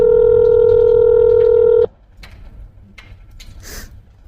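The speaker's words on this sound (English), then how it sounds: "I made phone calls to the chief's office." A telephone call to a police chief's office: a loud steady tone holds for almost two seconds and cuts off abruptly, then faint clicks and line noise follow.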